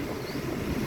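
A car's air conditioning fan blows loud and steady inside a Mercedes E350 with an M272 engine, a constant broadband whoosh with no breaks.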